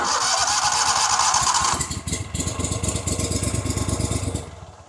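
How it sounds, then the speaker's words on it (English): A Gator Tail 40XD outboard mud motor cranks and catches, then settles into a steady, rapid idle chug, loud and close with no talking. "Let's go over the controls right here a little bit on the Gator Tail 40XD. Easy start right there. I'll crank it up."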